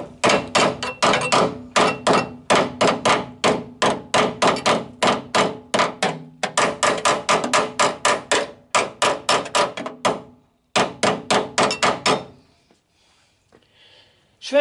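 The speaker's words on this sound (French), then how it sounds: "Et avec un marteau." Hammer striking sheet metal to fold it, dozens of rapid sharp metallic blows in bursts with brief pauses, close and loud, then quiet at the end.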